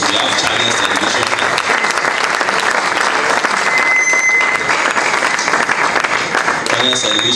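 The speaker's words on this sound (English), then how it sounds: "I want to implore us to make the applause very loud" Loud, sustained audience applause at a national moot court competition, a thick continuous roar of many hands clapping for over seven seconds without letup.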